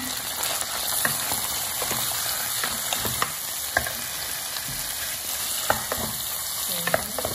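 Chicken pieces frying with browned onion in a pan, a steady close sizzle with frequent clicks and scrapes of stirring throughout, no voices.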